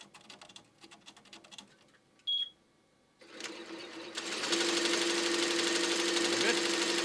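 An embroidery machine stitches steadily after being rethreaded and backed up a few stitches, a dense continuous mechanical whir that starts up partway through and holds at a constant level, following quieter clicks and handling noises.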